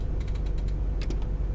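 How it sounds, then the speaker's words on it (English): A bus door opens in the Tourist Bus Simulator game, heard as a short run of light mechanical clicks and creaks followed by a brighter pneumatic hiss-like burst near the end, set over a steady low engine rumble. "Open the door."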